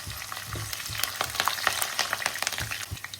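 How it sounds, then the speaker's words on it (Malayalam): Curry leaves spit and crackle in hot oil, a busy stream of sharp pops over a bubbling sizzle, close and fairly quiet, with no talking. "കറിവേപ്പില ഇട്ടിട്ട് അതും കൂടെ ഒന്ന് വറുത്തെടുക്കാം"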